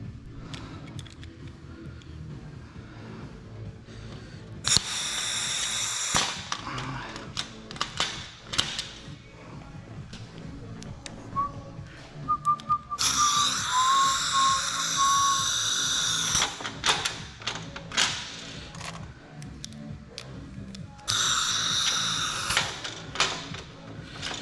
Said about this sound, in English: this pneumatic or Clico essentially does what the Clico pliers do, but it's run off air.